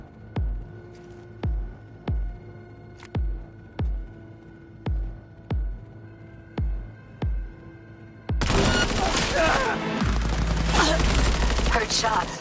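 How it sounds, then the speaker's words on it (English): Gunfire in the video game Cyberpunk 2077: about a dozen single, loud shots at an even, measured pace, then a sudden burst of heavy, continuous rapid fire and clatter that fills the final seconds. "Heard shots."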